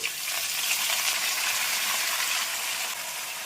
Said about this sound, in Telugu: మనం ఇప్పుడు దీంట్లోకి తాలింపులోకి పాలకూర వేసుకుందాం